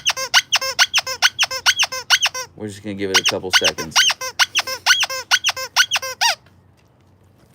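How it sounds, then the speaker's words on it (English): A dog's squeak toy squeezed over and over in a rapid, steady run of loud, high squeaks, nearby, with a voice talking briefly in the middle before the squeaking stops. "Got one of Archer's favorite squeak toys here."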